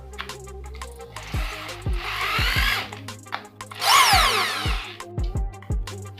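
A Dongcheng mini drill drives a screw in short whirring bursts that rise and fall in pitch, two of them longer and louder, between clicks and brief pauses, close by with no talk.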